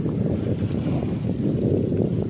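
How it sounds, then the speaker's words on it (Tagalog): Strong wind at the sea shore roars steadily against the microphone, with a low rumbling buffet and a churning, watery wash of rough water underneath, no voices. "Masyadong malakas ang hangin ngayon."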